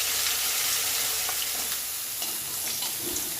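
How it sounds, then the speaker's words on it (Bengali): Fish frying in a wok gives a steady, close sizzle with a hiss of hot oil, with a few faint clicks and scrapes throughout. "এবার কড়াই পরিষ্কার করে মাছটা ভেজে নিচ্ছি"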